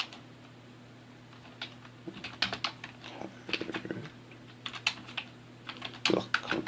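Keys clatter on a computer keyboard in irregular bursts of typing, close and fairly quiet, with a steady low electrical hum running underneath.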